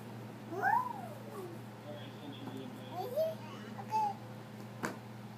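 Cats meow several times, short rising and falling calls scattered over a few seconds against a steady low hum.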